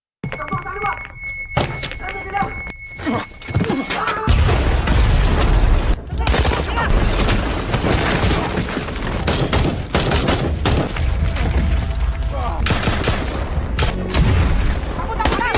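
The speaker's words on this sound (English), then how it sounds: "Abu Sayyaf responds with RPG attacks, which strike the team" In an action film battle, rapid bursts of gunfire and heavy thudding explosions from RPG attacks crash together at close range, loud and chaotic, with shouted voices mixed in.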